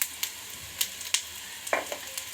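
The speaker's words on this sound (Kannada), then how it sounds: "ಈರುಳ್ಳಿ ಸ್ವಲ್ಪ ಫ್ರೈ ಆಗ್ತಾಯಿದೆ" Onions sizzle and crackle in a hot pan, a soft close frying hiss broken by sharp pops and stirring scrapes, with no voices.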